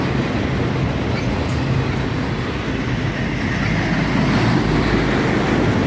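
A mostly empty autorack freight train rolls past in Carlisle, a loud, continuous rumble of heavy railcars with rhythmic wheel clatter close by, holding steady throughout with no talk.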